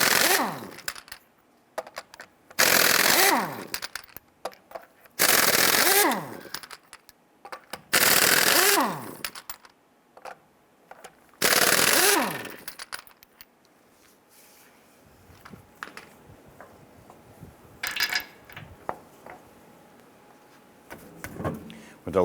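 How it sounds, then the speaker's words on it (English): A 19mm socket loosens and removes lug nuts on a 1994-2004 Ford Mustang wheel, with several loud bursts of ratcheting, then quieter clinks and handling noises at close range. "Using your 19mm socket, loosen and remove your lug nuts."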